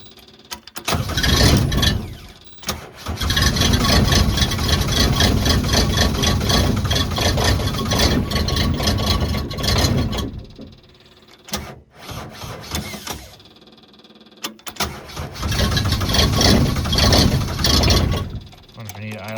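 Diesel engine of a Chinese NT18K mini excavator runs near and loud with a rough steady chug, cutting out briefly around the middle before picking up again; a voice speaks at points.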